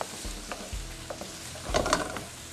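Fish sauce sizzles at the hot edge of a wok while stir-frying glass noodles with seafood and holy basil; scraping stirs and a brief burst of sizzling rise near the end, close and moderately loud.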